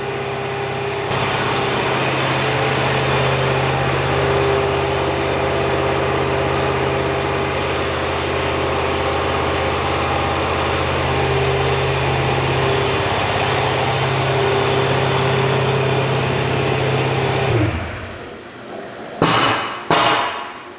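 A junkyard Ford 289 V8 that sat for over 45 years, fitted with four different brands of valve lifters, runs loud and steady on a dyno, then cuts out abruptly, leaving a few sharp knocks.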